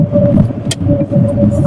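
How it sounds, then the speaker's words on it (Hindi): A car engine heard from outside hums and rumbles steadily, sounding muffled and close, with a brief faint rattle partway through, during a night drive through dense jungle. "बाहर से आवाज आ रही होगी गाड़ी की"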